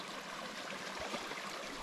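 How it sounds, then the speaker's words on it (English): A mountain stream runs in a steady, soft rushing wash on a late-season hike toward Burger Peak in Utah's Pine Valley Mountains, with even flow and no talking. "I'm amazed at how much water's running."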